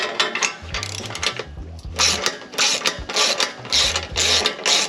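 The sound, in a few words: ratchet turning bolt on Mustang exhaust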